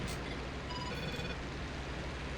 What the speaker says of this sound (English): that's just the phone telling me I was followed on Twitch